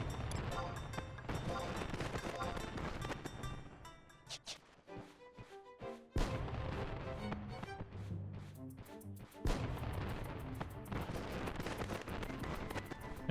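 Fireworks at a desert event in Final Fantasy XI crackle and boom in rapid bursts over loud, rhythmic event music, with clusters of pops throughout and a lull in the middle.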